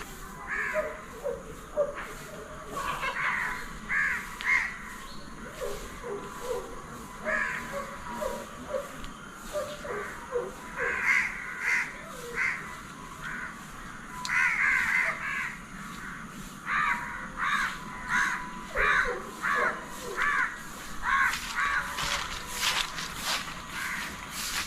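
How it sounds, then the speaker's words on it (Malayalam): A crow caws again and again in loud, harsh bursts, in uneven runs of two to four calls. The calling goes on over faint outdoor background noise, with soft footsteps here and there. "ഒരു കാക്ക"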